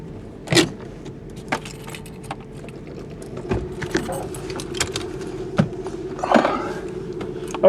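A Datsun Z is parked in a driveway, its engine humming low and steady while keys jangle and sharp clicks and knocks of door and cabin handling ring out close by.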